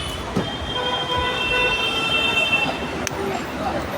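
Trains at Mumbai Central railway station, a loud rolling rumble with squealing wheels and sustained metallic tones, plus a sharp clank near the end.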